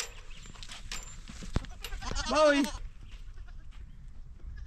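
Goats bleat in a farm pen, one loud wavering call rising near the middle amid background noise, with someone talking before and after.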